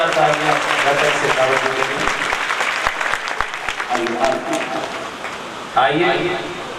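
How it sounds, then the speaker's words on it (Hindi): An audience at a Shrimad Bhagwat katha held at a gaushala in Rampura claps in scattered, uneven rhythm, partly under a voice speaking and singing over a microphone. "बहुत सुंदर जोरदार तालियां"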